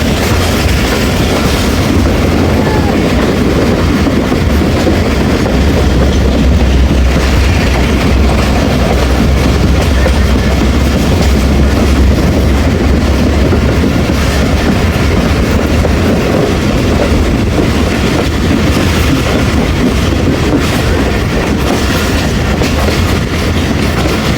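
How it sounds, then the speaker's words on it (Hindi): The Rehman Baba Express runs along the rails from Taxila Cant Junction toward Rawalpindi, a loud, steady rumble with continuous clickety-clack of the wheels heard from inside the carriage for the whole stretch. "टेक्सला कैंट जंक्शन से निकल चुकी जी हमारी ट्रेन"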